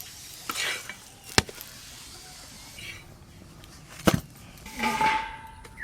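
Intermittent sizzling of a stuffed potato paratha frying in a pan on a clay stove, broken by sharp knocks and scrapes of a utensil, with faint background voices.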